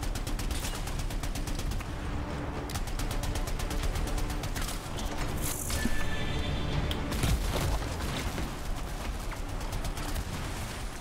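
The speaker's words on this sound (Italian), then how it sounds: "sparo alle sentinelle?" Rapid bursts of gunfire from the PS4 game Anthem crackle continuously, with booming shots and dense automatic fire throughout.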